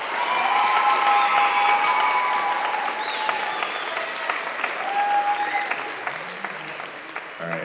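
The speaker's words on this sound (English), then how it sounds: "can we give one more round of applause for Elias?" Audience at a middle school band concert applauding, with sustained, dense clapping and some crowd noise that fill the clip and taper slightly toward the end.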